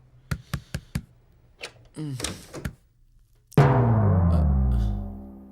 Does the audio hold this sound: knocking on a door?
yes